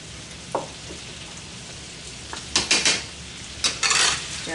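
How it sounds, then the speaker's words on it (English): Canned potatoes with cumin being stirred in a pan, a soft sizzle underneath with several distinct scraping strokes of a utensil against the pan, close and clear. "Stir it around a little bit more."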